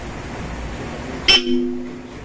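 A short click followed by a single brief honk from a Bosch Europa horn newly fitted to a Mitsubishi Destinator, fairly close, against a low background hum.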